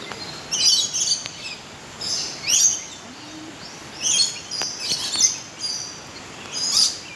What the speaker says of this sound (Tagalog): uni lang ng ibon yan.